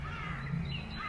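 Garden birds near a playground give a brief, harsh call, heard faintly from a distance against quiet background noise.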